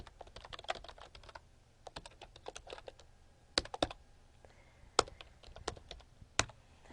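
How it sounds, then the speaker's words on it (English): Typing on a computer keyboard, a run of quick, irregular key clicks close to the microphone, with a few louder, sharper keystrokes standing out from the steady tapping. "So I can pretty much type that."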